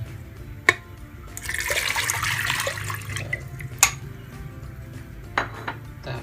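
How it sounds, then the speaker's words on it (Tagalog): Water pouring into a cooking pot of vinegar, soy sauce and oyster sauce for crispy pata, a steady splashing rush lasting several seconds with a few sharp clinks of pots and utensils around it, close and no talk. "Tsaka lagyan na natin tubig guys."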